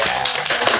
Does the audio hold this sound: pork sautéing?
no